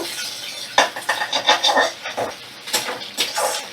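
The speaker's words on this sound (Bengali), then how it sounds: "পেঁয়াজ আর ডিমটাকে ভালো করে আমি ভাজা ভাজা করে নেব" Onion and egg stir-fried together in a kadai, with close, repeated metal scrapes and clinks of a spatula against the pan in an uneven rhythm and no talking.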